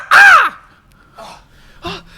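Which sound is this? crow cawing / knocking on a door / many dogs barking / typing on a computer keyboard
crow cawing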